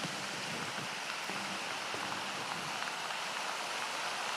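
Heavy monsoon rain in Mumbai falls as a dense, steady hiss of drops drumming on surfaces, constant and enveloping throughout, with no voices.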